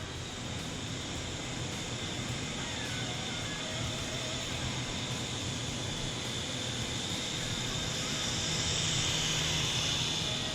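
A small Syma S111G infrared RC helicopter flies at full forward speed, its rotor and motor producing a steady, close whirring buzz that holds unbroken throughout and grows slightly louder near the end.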